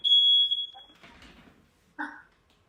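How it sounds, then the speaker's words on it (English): A smoke alarm gives a single shrill, high chirp that lasts about half a second, then fades into quiet room noise, followed by a brief muffled thump. "Oh, is this smoke alarm?"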